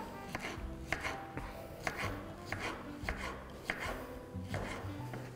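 A knife chops green zucchini on a cutting board in a slow, even rhythm of about six sharp, close thuds, with a quiet pause between strikes.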